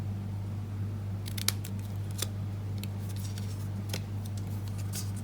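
Scissors snip a banner notch into the end of a strip of card stock, with a few brief, crisp cuts over a steady low hum.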